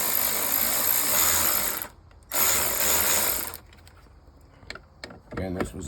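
A ratchet clicks in steady, loud bursts while loosening 7 mm bolts on a fuse box, with pauses between runs and some lighter mechanical clatter.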